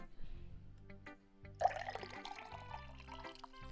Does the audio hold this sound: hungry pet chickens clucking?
no